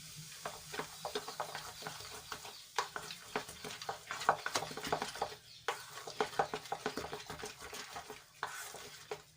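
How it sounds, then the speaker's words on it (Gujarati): Close, steady scraping and clicking of a spoon stirring thick dhokla batter in a bowl, quick rhythmic strokes with brief pauses and no talking. "એક જ બાજુ આપણે આ રીતે હલાવતા રહીશું અને એને સરસ રીતે મિક્સ કરી લેશું"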